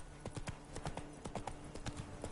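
Hooves of Roach, the horse in Witcher 3, drum in a quick rhythmic clip-clop as the horse runs. The footfalls are steady and evenly spaced at a moderate distance, with no voices over them.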